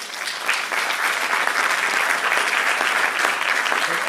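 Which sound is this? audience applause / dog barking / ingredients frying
audience applause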